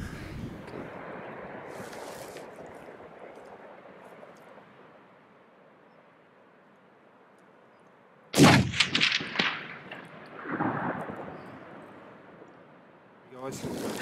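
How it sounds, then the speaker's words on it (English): A single sharp, loud rifle shot on a mountain hunt for game such as Dall sheep, mountain goat, ibex or tahr. It rings out after a quiet stretch and echoes away, with wind or breathing around it. "That first shot might have been a miss."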